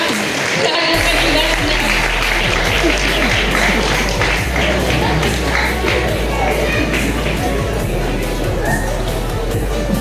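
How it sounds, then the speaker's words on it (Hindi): Dense clapping from a large audience at an annual corporate recognition night in Maharashtra, steady and loud throughout with crowd murmur and a low hum underneath. "महिला शक्ति के लिए तालियां हो सकती है।"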